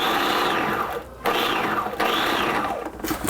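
A kitchen blender pulsing breakfast ingredients into crumbs in three loud bursts of whirring motor, each rising and winding down with short pauses between, up close.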